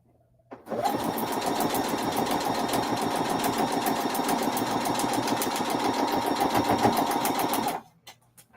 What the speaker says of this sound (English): Now I'm stitching on line 4.